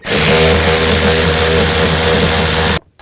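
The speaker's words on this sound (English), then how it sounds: "use a 7mm socket, take that one out" A power tool with a 7mm socket drives a screw out of the rear interior door handle on a 2000-2006 Chevy Tahoe, a loud, steady, close whir running about three seconds before cutting off abruptly.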